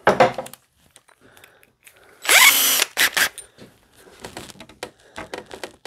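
A power drill bores a hole in a short, loud whirring burst with a brief rising spin-up, framed by scattered clicks and handling noises of tools and parts while building a pedal plane.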